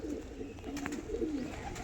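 Andhra pigeons, a red-flower pair in a Kolkata loft, give soft low cooing that rises and falls steadily, close by, over a constant background murmur.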